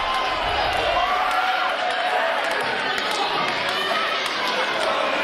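Dense crowd noise at a live professional wrestling match, a steady roar of cheering and chatter from the arena audience, loud and continuous throughout.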